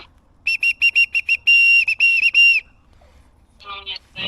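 A small plastic whistle found by a tunnel on a bikepacking route from Portugal to Lithuania is blown in a run of short shrill toots, then one long blast and a few more, loud and close with no talk over it.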